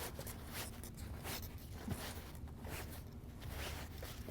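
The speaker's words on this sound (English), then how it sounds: "there's just a wraparound zipper that makes it super easy to get this cover off." A continuous raspy zipper pull running along a foam patio cushion cover, with repeated zipping strokes close by and no talking.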